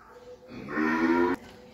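A Friesian heifer calf on a cattle farm gives one short, low moo at close range lasting under a second, with faint background noise before and after.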